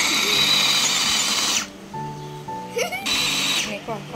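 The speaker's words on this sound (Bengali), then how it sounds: "আমি এটা সবটাই ব্লেন্ডিং সবকটা একটু হালকা করে ব্লেন্ড করে নেবো" A kitchen blender whirs loudly in two bursts, blending food, with a short quieter pause between them in which softer sounds are heard.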